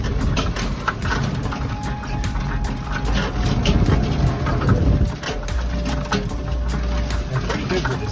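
An Electrobug Volta VT5 electric RC buggy drives with a steady high electric motor whine over a loud outdoor background, the pitch shifting slightly as it moves, while people talk intermittently.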